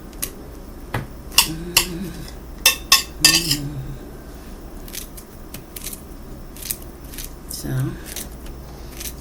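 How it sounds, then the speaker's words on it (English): A knife cutting a pineapple into chunks on a board, with sharp crisp chops and taps in irregular bursts, close up, while a person talks briefly. "just cutting up some chunks"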